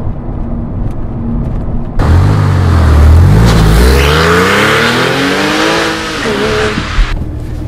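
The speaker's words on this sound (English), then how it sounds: "The acceleration in this 911 is very strong, very healthy." A Porsche 911 Cabriolet with 315 horsepower accelerates hard on a road test drive, its engine note climbing through the revs, dipping briefly, then climbing again, loud and close with no talking.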